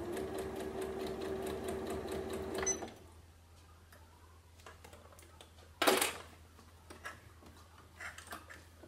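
A sewing machine runs a steady stitching burst on a Christmas stocking seam for a few seconds, then stops, leaving quiet handling clicks and rustles of fabric.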